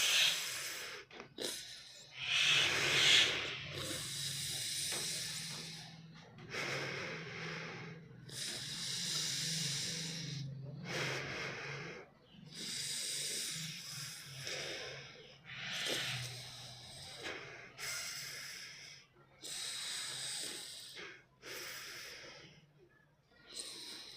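A person takes a series of slow, deep breaths during a rest break, each a loud, close, airy rush of air with short pauses between, repeated steadily over the stretch with no talking.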